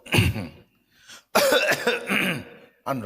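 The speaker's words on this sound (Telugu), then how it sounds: "ఆ సమయమును మించి పాస్టర్ గారు మాట్లాడుతున్నాడు అనుకో, దగ్గుతారు సంఘంలో." A single voice demonstrates church congregation coughing, with a few loud, close coughs and throat-clearing bursts separated by short silences.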